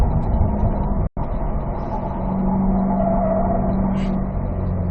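A race car accelerates along a track on the Spring Mountain north course, its engine droning loud and steady from inside the car with a rising tone and one brief dropout.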